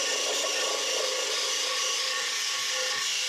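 An angle grinder with an 80 grit flap disc scuffs a metal surface on a 1930 car build, making a continuous, even, hissing grind at moderate level with no voices.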